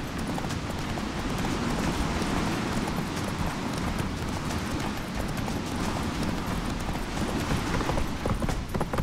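Roach, the horse in The Witcher 3, gallops steadily with a fast, continuous clip-clop of hooves over ground, close and fairly loud throughout.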